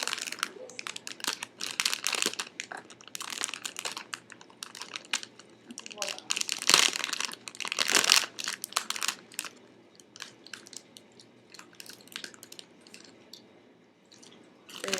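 Crisp crunching bursts come from seaweed-wrapped rice crackers being bitten and chewed, close and irregular, with loud cracks mixed with softer munching and rustling.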